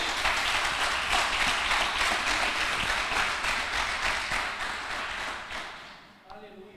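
Congregation in a church service claps to praise the Lord, a thick wash of many hands lasting around six seconds before tapering off, with a voice resuming at the close.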